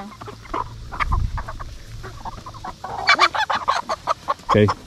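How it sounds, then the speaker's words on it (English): Several chickens, including black ones, cluck nearby on a farm in short, uneven bursts that grow busier toward the end, with faint rustling in the background. "What about one of these black chickens?"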